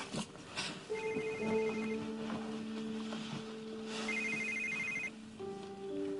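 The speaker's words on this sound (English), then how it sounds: "That's my phone." A telephone rings in a repeating electronic ringtone pattern, fairly close and clear, with a tonal melody recurring several times over a quiet room, and no speech over it.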